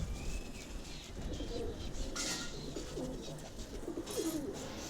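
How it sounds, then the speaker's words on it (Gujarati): Several domestic pigeon breeds kept together in a home cage give soft, low cooing calls, faint and intermittent under a steady hissy background. "અમે જોઈ શકો બધા બહુ કબૂતરા છે અમારા જોડે."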